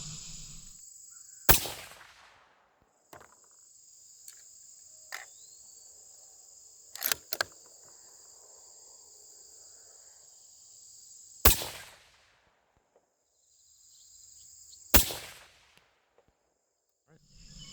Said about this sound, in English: So let's start out with those 3 test shots.